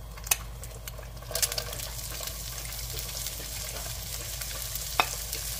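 Lo mein noodles get stirred in a hot pan with a steady close sizzle of frying, broken by a few sharp utensil clinks against the pan. No one speaks.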